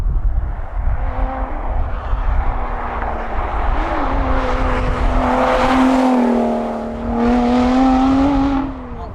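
A Lotus Evora GT430 Sport being driven on the road, its engine note rising and falling through several gear changes, loud and close with steady wind and road roar and no talk.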